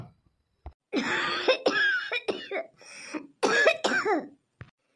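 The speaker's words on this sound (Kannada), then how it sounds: "ಕೂಗಿ ಗ್ಯಾಂಟ್ಲು ಹೊಡೆದು ಕೆಮ್ಮು ಶುರು ಆಗಿದೆ." A person coughs in a sequence of harsh, close bursts, one short hack followed by several longer rasping coughs that trail off into breathy throat sounds, with a brief click at the end.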